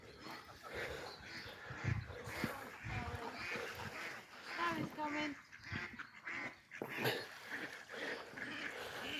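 Geese at a pond honking and calling in a busy, overlapping chorus close by, with ducks quacking among them and a person talking to the birds.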